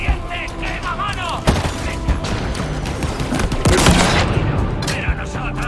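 Gunfire in the video game Halo Infinite: rapid bursts of weapon fire with sharp cracks and booms over a dense battle din, with a brief voice in between.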